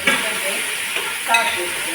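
Tomatoes, onion and curry leaves fry in a pan for a prawn curry, giving a steady close hiss and sizzle with light stirring scrapes and no voices.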